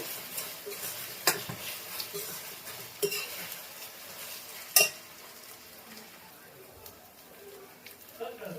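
Cashew chicken curry masala frying in a pan gives a quiet, steady sizzle, broken by a few sharp clinks and scrapes of a spoon against the pan, with a voice talking faintly over it.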